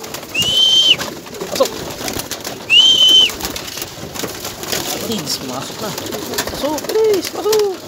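Pigeons in a loft at feeding time give soft, rounded coos over rustling and scuffling nearby, with a couple of louder calls standing out.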